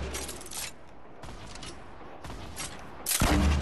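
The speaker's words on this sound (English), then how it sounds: "This is perfect range for my grenade launcher." Explosive bursts of grenade launcher fire in the video game Fortnite come in three or four separate blasts, with the heaviest and loudest near the end.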